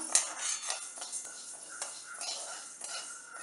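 Moong dal is dry-roasted in a pan, with soft irregular clinks and scrapes of a utensil stirring against metal, quiet and close.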